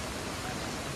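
Floodwater rushes through a village after a cloudburst, a loud, steady broadband roar of churning water that carries on unbroken with no voices over it.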